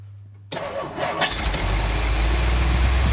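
A 1958 Edsel engine running on a gravity-fed fuel setup cranks briefly, then catches and settles into a loud, steady idle rumble.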